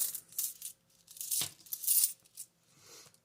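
Loose coins of leftover change jingle and clink in a change purse, several short metallic rattles and chinks in separate bursts, close by and moderately quiet, with no voices.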